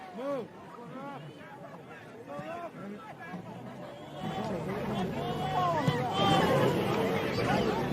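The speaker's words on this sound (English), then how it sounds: "Really good crowd here at Paul Lorentz Field" Crowd at a college soccer match at Paul Lorentz Field, a low murmur of chatter and distant voices that swells somewhat louder in the second half, with some nearer speech mixed in.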